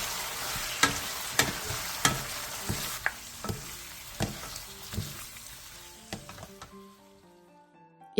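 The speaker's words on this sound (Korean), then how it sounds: "고기가 다 익었으면 썰어놓은 야채와 들기름 반 스푼, 통깨를 넣고 가볍게 뒤적여 마무리해주세요." Cooked meat being tossed in a pan with cut vegetables, perilla oil and sesame seeds, with scraping stirs and sharp clacks over a light sizzle that fades toward the end.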